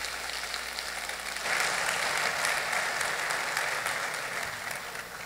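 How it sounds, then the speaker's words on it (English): A crowd at a campus forum gives a sustained round of applause, a dense even rush of clapping that swells slightly after the first second and holds steady before tapering near the end. "another round of applause for Tim Sams."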